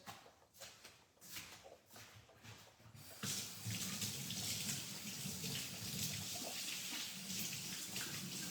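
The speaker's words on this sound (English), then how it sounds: "Let me just wash my hands." Tap water runs into a sink as hands are washed in a kitchen, beginning with brief splashes and then becoming a steady, close, fairly loud gush that keeps flowing with no talking.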